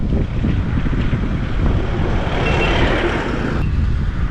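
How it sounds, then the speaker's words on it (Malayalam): Cold wind sweeps across the Chinnakanal viewpoint in the Munnar hills, buffeting the microphone in a continuous rumbling gust that swells and eases slightly. "നല്ല തണുത്ത കാറ്റടിക്കുന്നുണ്ട്"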